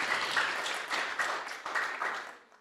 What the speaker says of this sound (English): Let's have a round of applause again for Vikas.